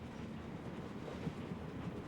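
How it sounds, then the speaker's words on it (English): A train car rolling along: a steady low rumble with faint rhythmic clickety-clack, quiet and continuous with no voices. "they say that this train car is extremely safe when it travels directly under plasma clouds"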